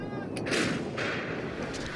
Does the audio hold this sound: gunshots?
yes